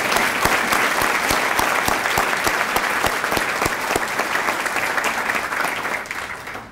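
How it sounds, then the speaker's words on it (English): Loud, sustained applause from the audience at a Teacher of the Year awards ceremony, sharp individual claps standing out within the crowd's clapping before it begins to taper near the end. "Let's give everyone one more round of applause."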